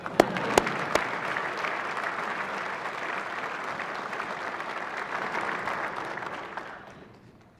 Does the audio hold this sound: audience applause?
yes